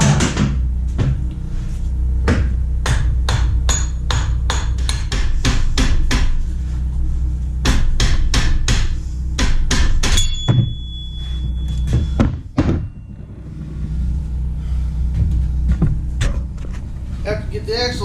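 Repeated loud, sharp hammer blows tap a wheel axle out of a 2006 Victory Hammer motorcycle, ringing metallic thuds in an irregular rhythm up close, followed by scraping and a few heavier knocks.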